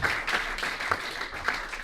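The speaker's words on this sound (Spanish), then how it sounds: "Denle un aplauso a la gloria del Señor" Congregation applause at a Spanish-language church service, a steady wash of clapping with a few sharper bursts, moderately loud and close, continuing throughout the short stretch.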